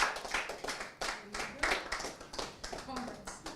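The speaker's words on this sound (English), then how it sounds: "Please, a round of applause for him." Scattered clapping from a small group at a spoken word competition final, uneven and a bit sparse, with some voices talking over it.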